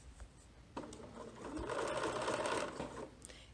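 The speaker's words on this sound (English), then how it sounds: "I'm going to straight stitch that shut" A sewing machine runs a straight stitch to close a seam on fabric, a soft quick whirring burst lasting about two seconds, close but faint, with no talking.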